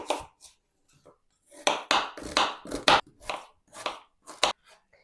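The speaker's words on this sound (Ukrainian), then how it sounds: "Цибулю наріжу кубиком." A knife dices onion into cubes on a board for a Ukrainian borscht base, giving a run of close, crisp chopping taps in irregular bursts with short pauses between.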